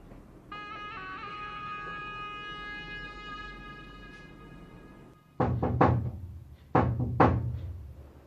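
Someone knocks on a room door, several sharp, loud raps in two close bursts after a steady tonal hum, with no voices.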